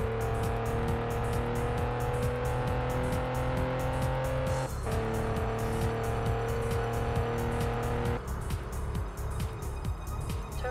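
A McLaren supercar in the racing game Test Drive Unlimited on PS2, its engine holding a steady high drone with shifting pitch as it drives continuously, with a brief change in tone partway through.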